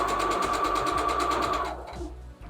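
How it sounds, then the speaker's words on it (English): A sewing machine runs steadily while stitching fabric for a pillow, its rapid, even mechanical chatter loud and close for about a second and a half before it stops, leaving a few faint handling sounds. "let's set up our sewing machine"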